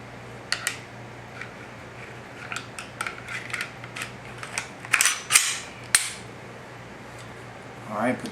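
Glock 21 SF .45 ACP pistol being put back together by hand: sparse metallic clicks and snaps of slide and parts, a few sharper clacks near the end, all fairly close in a quiet room.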